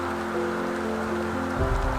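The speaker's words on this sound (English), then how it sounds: "it's really starting to rain now" Rain falls steadily on a freshly painted mobile home, a dense hiss of drops on the surface at close range, with a low hum running underneath and a brief thump near the end.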